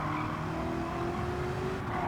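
Powerful race car in Gran Turismo 7 sliding through a tight corner under light throttle, with a steady, loud engine drone and faint tire scrub running unbroken for about two seconds.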